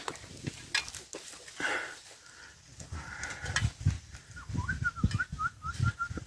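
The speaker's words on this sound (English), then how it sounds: "Now you hear that whistling." A man whistles short repeated signals to a team of oxen pulling a plough in a farm field, so the animals stop. The chirpy whistles sit mid-distance over rustling and low field noise.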